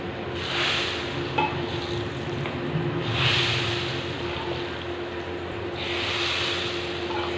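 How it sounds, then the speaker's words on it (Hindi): A steady hiss and crackle of a spice tempering sizzling in hot oil, poured over dal makhani, continuous and fairly close, with faint swells of noise. "ये मैं अब इस पे ये तड़का लगा रही हूँ"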